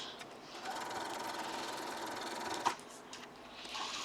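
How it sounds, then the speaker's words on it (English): A sewing machine stitches a quarter-inch seam around a small quilted Christmas ornament, its needle whirring steadily and faintly with a brief click partway through. "just sew all the way around it at a 1/4 inch, just like we do with seams for our quilting"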